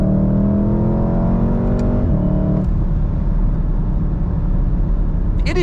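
A VW Golf 7 R with a DSG gearbox accelerates onto the autobahn, its engine note climbing through two quick upshifts before settling into a steady, loud road drone.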